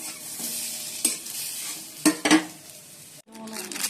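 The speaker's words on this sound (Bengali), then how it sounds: "এবার আলুগুলো ভেজে নিচ্ছি" Potatoes fry in a pan while a spatula scrapes and stirs them, a soft steady sizzle punctuated by several sharp metallic scrapes and knocks, with a brief gap before the frying hiss returns.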